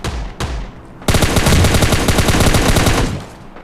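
Rapid automatic gunfire from an S12K shotgun or M416 rifle in a mobile battle-royale shooter, loud dense bursts of shots at close range, with a couple of separate single shots first, then a sustained volley and tapering.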